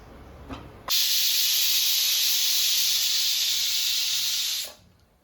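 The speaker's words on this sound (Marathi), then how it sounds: "अशा 3 शिट्ट्या करून घ्याव्या आणि गॅस बंद करावा।" A pressure cooker of dal khichdi whistles, one loud, steady, close hiss of escaping steam lasting nearly four seconds before cutting off, with no talk.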